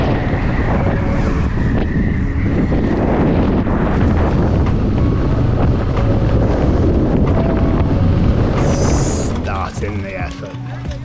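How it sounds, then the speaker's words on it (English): Strong wind roars and buffets the microphone of a cyclist riding uphill at a Livigno training camp, a loud, unbroken rumble that eases slightly in the final second. "She's a windy one today."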